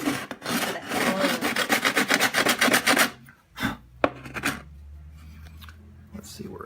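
Metal file pushed backwards across a workpiece while building a deep sea diving helmet, giving a close run of fast, harsh rasping strokes, then a few scattered scrapes and knocks with someone talking.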